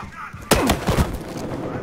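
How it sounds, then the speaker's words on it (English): A frag grenade explodes in the Battlefield Hardline video game, giving one sudden loud blast followed by a short rumbling tail and scattered game noise. "He like exploded when I threw a grenade at him."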